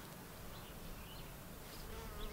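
Honeybees buzz in a faint, constant drone, several insects humming together close by at a beehive, with no voices.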